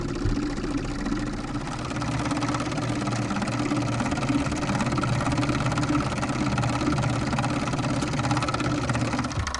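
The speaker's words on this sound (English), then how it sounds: "simply turn on the fuel pump to give you additional pressure" Fuel pump running to pressurise a newly changed fuel filter on an MK60DP engine, a steady close mechanical hum with a fine rapid whirring buzz, constant throughout.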